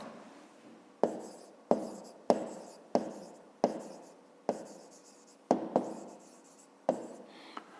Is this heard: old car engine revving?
no